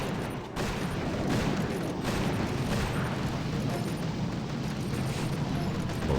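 Artillery explosions in a video game battle on a tropical island map, a dense continuous barrage of heavy booms and blasts rumbling loudly throughout with no pauses.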